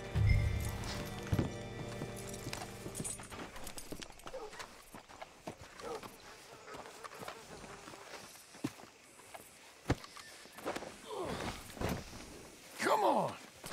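Horse hooves clip-clop in Red Dead Redemption 2 as a rider comes up to a hitching post, with a horse snorting and whinnying, and game characters talking over a busy town bed.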